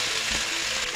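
Cabbage hits hot oil in a pan, a loud dense sizzle of frying that holds steady through the short moment, close by and without speech.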